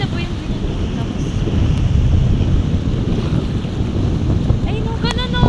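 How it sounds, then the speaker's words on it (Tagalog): Strong wind roars and buffets the microphone continuously, a dense low rumble with surf-like washes beneath and no clear speech. "Tapos, sobrang hangin."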